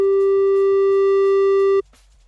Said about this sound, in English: This is definitely a sine wave with a bit of distortion on it.